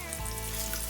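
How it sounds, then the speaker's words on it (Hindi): Chopped onion and ginger frying in oil give a soft, steady sizzle for about a second, with a faint hum underneath and no speech. "ये मैं कटा हुआ प्याज डाल दूँगी और साथ ही मैं अदरक डाल दूँगी। इन दोनों चीज़ों को मैं फ्राई कर लूँगी"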